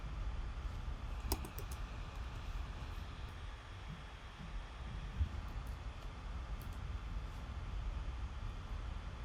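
Typing on a computer keyboard to enter a new image name, soft rapid key clicks over a steady background hum, fairly close and continuous with no talk.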